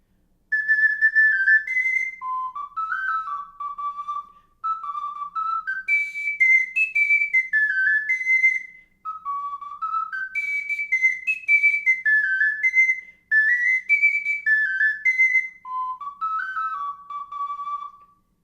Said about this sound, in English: Celtic music, allegros, and jigs all sound great on this ocarina